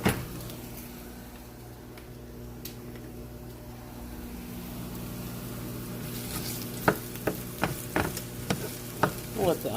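Onions for a pork chop dinner sizzle in a hot pan, a soft steady frying hiss that builds, followed near the end by a run of sharp utensil scrapes and knocks as they're stirred.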